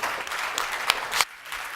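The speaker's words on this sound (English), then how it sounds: "Give him a round of applause." Audience applause for a beverage company co-founder being introduced at a drink competition semifinal, a brief burst of steady clapping that thins out near the end.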